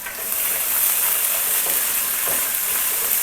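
Garlic-ginger paste fries in a pan over the flame, a dense, loud, continuous sizzle that stays even throughout the short stretch, with no talking.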